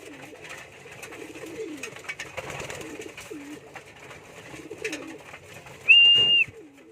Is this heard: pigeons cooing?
yes